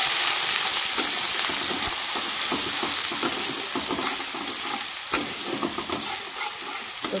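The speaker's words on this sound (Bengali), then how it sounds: "তো পেঁয়াজটাকে হালকা ভেজে নেব।" Chopped onion frying lightly in a pan, with a loud, continuous sizzle and scraping, stirring strokes throughout.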